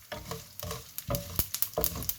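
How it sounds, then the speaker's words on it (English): Sesame seeds popping and crackling in about four tablespoons of hot oil for Gujarati muthia, close-up frying sizzle with a run of sharp small pops growing busier toward the end. "once the sesame seeds are popping"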